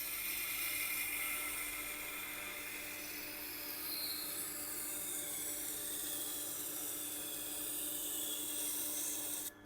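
An 8-inch Victorinox chef's knife is sharpened on a Tormek wheel, giving a continuous even grinding hiss that holds steady for about ten seconds before cutting off abruptly.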